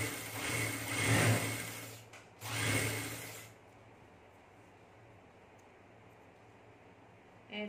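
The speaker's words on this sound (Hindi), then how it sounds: "बस यूं हल्के दबाव के साथ सिलाई लगा लेंगे" Sewing machine stitching a cord into loops, two short whirring bursts of stitching close by, followed by quiet handling.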